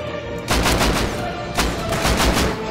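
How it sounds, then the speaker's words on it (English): AK rifle bursts in the game Rust fire in two loud, rapid strings of shots, close and sharp, with a short pause between them and no voices. "My range shot is not good with the AK."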